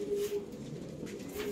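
Breeding pigeons, a red phul and a red shira, coo in a low steady murmur close by, with a faint higher tone at the start and end.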